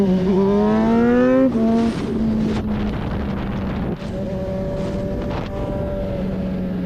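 Vehicles doing wheelies on a road roar past with rising, revving engine tones and gear shifts, a loud motor whine that drops and settles into a steady drone.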